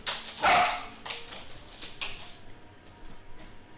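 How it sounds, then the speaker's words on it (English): Dogs barking while playing nearby, one loud bark followed by several quieter yips and barks in an irregular scatter. "Sorry for the dogs playing"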